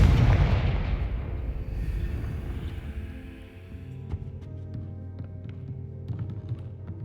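A Confringo fire spell blasting in Hogwarts Legacy, a loud rumbling boom at the start that decays over a few seconds into a low hum with faint game effects and small clicks.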